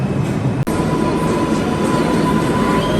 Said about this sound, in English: Here comes my train